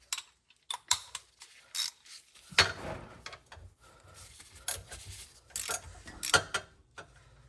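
A torque wrench tightens the drain plug on the rear differential of a 2014-2018 Subaru Forester, giving close, irregular ratcheting clicks, metallic scrapes and rattles of tool against fitting, with no talking.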